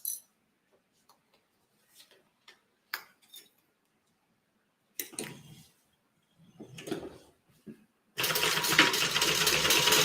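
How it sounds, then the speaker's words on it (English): A sewing machine stitches a pocket lining, with a steady, dense mechanical whir running loud and close for the final couple of seconds after scattered light handling clicks. "I'm going to stitch it from this side because I don't want to stitch on top of that."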